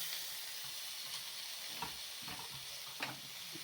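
Grated carrot, coriander and ash gourd stirred into a hot tempering with cashews for curd idli, a steady close sizzle with soft scraping stir strokes, no talk.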